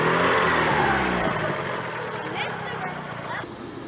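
A truck engine roars loudly up close in a drive-by, its revving rumble gradually easing and fading as it passes, with voices over it.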